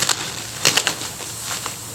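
A few quick, crisp snips of small children's scissors close by, scattered across a couple of seconds over a faint background hiss.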